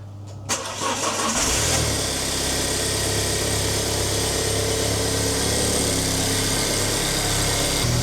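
Alfa Romeo Giulietta QV with a 1750 TBI turbo petrol engine cranks and fires after half a second, then settles into a steady, loud, close idle that drones on without any voices.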